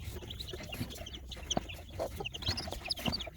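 A mother hen in a cage with her newly hatched chicks of mixed Aseel and Light Sussex breeds gives soft, repeated clucks close by, with faint chick peeps mixed in and no talk.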